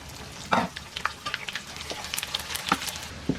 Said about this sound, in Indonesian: Di sini kita lanjut goreng ikan asin.